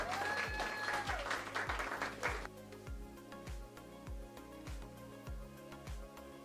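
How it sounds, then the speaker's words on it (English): Audience applause at a school board meeting honoring a high school teacher of the year, a broad wash of clapping at first that thins out, with steady rhythmic low thumps running beneath throughout. "Can we give Ms. Bovio a round of applause?"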